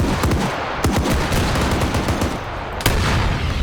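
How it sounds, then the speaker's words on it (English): Several sharp, loud gunshots crack out in quick succession in a video game match, with sniper fire from the Lynx aimed at a VIP, over a dense background of battle noise and no talking. "the VIP's getting sniped at by the Lynx"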